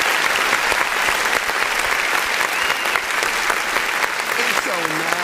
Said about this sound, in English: Let's go ahead and clap.